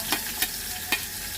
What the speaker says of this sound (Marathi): त्याच्यानंतर लगेच आपण कांदा घालूया